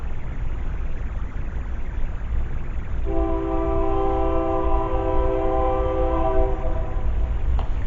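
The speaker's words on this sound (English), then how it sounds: "Does the train give you energy when it goes by?" A train rumbles past with a loud low roar, and midway a long chord-like horn blast sounds for several seconds before cutting off.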